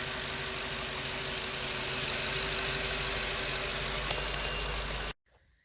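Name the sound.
8.1 Vortec engine idling in an RV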